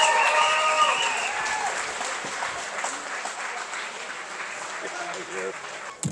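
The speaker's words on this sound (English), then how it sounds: "Please give a big round of applause for our speaker, Stein." Applause from the crowd at a Canyon County Lincoln Day Party in Idaho, loud and sustained for several seconds with a brief cheer near the start, before a speaker takes the stage.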